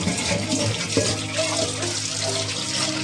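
Tap water gushes steadily as peeled small shallots are washed in a kitchen, a continuous close splashing rush with no talk.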